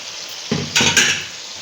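Chopped tomatoes and crushed coriander tip into a hot pan of chicken karahi, setting off a sudden loud sizzle and clatter in two quick bursts over a steady background hiss of frying.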